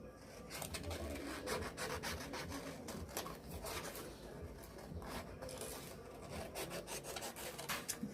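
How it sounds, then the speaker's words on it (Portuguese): Scissors cut paper feathers out of sheets, a close, quiet series of rasping snips and rustles repeating irregularly with no talking. "agora eu irei recortar as minhas penas, todas elas, tá? Então, vou recortar aqui."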